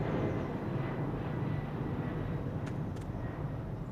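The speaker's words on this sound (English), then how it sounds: "Those are actually good sounds for the planes." Airplane engine drone in the video game Alaskan Road Truckers, a steady low roaring rumble holding at an even level throughout, with a couple of faint brief clicks near the end.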